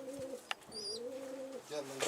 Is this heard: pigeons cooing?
yes